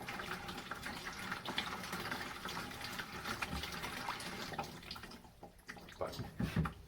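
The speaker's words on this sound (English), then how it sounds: "You're probably not going to just pour this into the sieve and have it go right through." Wood ash glaze slurry for pottery is poured and worked through a sieve, giving a steady wet sloshing and trickling of liquid close by, with a few louder splashy surges toward the end.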